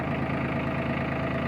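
A Mahindra Max 26 XL compact tractor's diesel engine idles steadily nearby, a dense, even low rumble with slight knocking texture and no speech.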